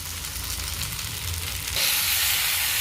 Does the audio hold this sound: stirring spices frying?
yes